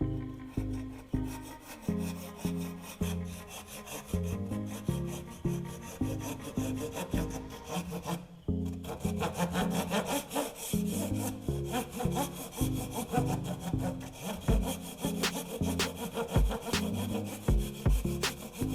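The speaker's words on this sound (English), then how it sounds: "I'll go ahead and cut it using a small handsaw" A small handsaw cuts through material in steady, rhythmic back-and-forth strokes, close and fairly loud. It runs alone with no talking, pausing briefly about midway before the sawing resumes.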